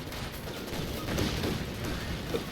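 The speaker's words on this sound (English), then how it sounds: "Panzer 2 also opening up" A Panzer II tank fires its autocannon during a Company of Heroes 2 match, steady rattling bursts of gunfire mixed with distant battle noise throughout.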